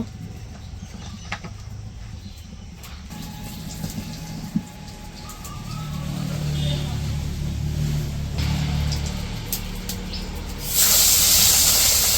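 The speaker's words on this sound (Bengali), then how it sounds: "এখন এই যে কড়াইয়ে তেল দিয়ে দিল" Hot oil in a wok for a village-style fish curry gives off a steady hiss that swells midway and grows louder and brighter near the end, with low rumbling background noise throughout.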